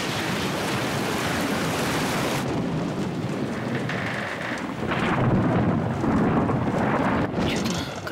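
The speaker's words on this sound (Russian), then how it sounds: "Че-то гроза такая страшенная заходит, а?" Heavy rumbling thunder from an approaching thunderstorm, a continuous loud roll with rain-like hiss, swelling again midway and lingering throughout.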